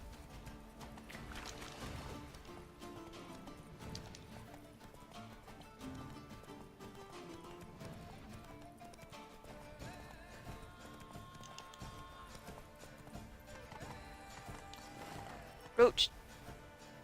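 Hooves of Geralt's horse Roach clip-clopping at a gallop in The Witcher, a steady rhythmic patter under game music, with someone talking over it and a brief sharp whinny-like burst near the end.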